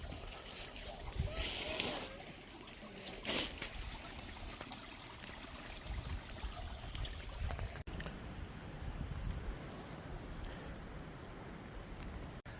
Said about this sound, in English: Nice little spring coming down off the mountain